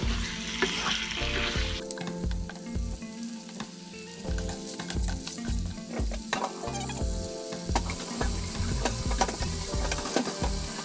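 Chicken stir-fried with chili in a hot pan, a loud continuous sizzle with repeated scraping and clanking of a spatula against the pan, close and steady, no talking.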